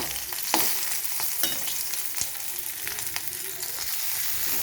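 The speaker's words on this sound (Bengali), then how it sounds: "এবার কিছুক্ষণ আমি ভেজে নিই ফোড়নটা, একটা সুন্দর গন্ধ না বের হওয়া অবধি নেড়ে যাবো" Tempering spices sizzling and frying in hot oil for a mixed vegetable dish, with a spoon scraping and stirring at irregular moments, close and steady, no voices.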